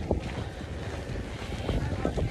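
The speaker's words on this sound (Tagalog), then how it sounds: "Mahangin at malamig ngayon dito sa Edmonton." Gusty wind outdoors on a cold, flurry-filled day in Edmonton, Canada, producing a steady, loud buffeting rumble across the microphone with no talking.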